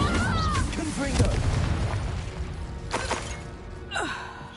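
A Confringo blasting spell exploding in Hogwarts Legacy, bursts of booming blasts and pops mixed with other spell effects, loud and close, with a player's voice talking among them.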